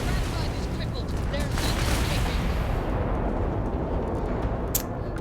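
Ship missiles fire in Starfield as a dense, continuous roaring barrage that stays loud and close throughout, with a sharp crack near the end.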